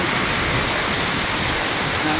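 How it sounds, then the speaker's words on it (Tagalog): Heavy rain pours down in Cotabato in a dense, loud, unbroken hiss, close by and steady from start to finish. "panoorin natin yung buhos ng ulan"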